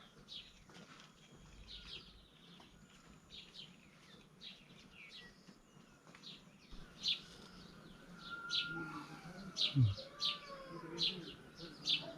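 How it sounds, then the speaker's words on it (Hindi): Small birds chirp while feeding on stone fruit in an orchard in Himachal Pradesh, the short repeated tweets moderately close and growing more frequent in the second half over faint ambient background. "ये चिड़िया भी खाने आई हुई है, जो आपको सुनाई दे रही है बैकग्राउंड में"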